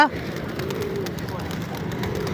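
Pigeons coo softly in a pigeon park in Malé, Maldives, a low steady murmur of calls from a flock nearby, with outdoor background noise throughout.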